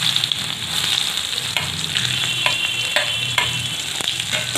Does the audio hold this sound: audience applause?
no